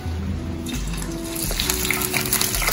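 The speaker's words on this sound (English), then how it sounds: "So I'm gonna start frying the fish now," Saltfish fries in a pan, a close, continuous crackling sizzle with scattered pops and the occasional clatter of the pan.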